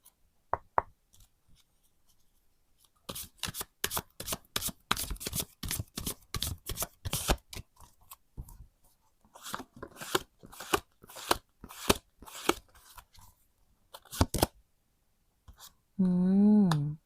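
Tarot cards shuffled and drawn close up, a long run of rapid crisp flicks and snaps in dense bursts, then scattered slaps of cards set down, ending with a brief voice.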